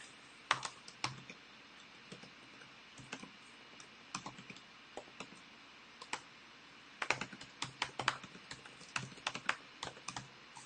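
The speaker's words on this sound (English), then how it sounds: "I'm just typing this up, so I'll be able to put it on the screen." Fast, uneven typing on a computer keyboard, with clustered key clicks in bursts and short pauses, close and fairly quiet, no talking.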